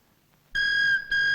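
A phone starts ringing abruptly with a loud electronic tone that breaks briefly, then resumes, heard alone and close in a Malayalam comedy scene.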